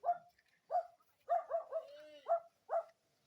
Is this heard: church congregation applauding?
no